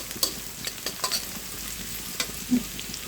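Onions sizzling in oil in a pan for a broiler chicken curry, a steady close fry broken by a few sharp pops and utensil taps, alone without talk.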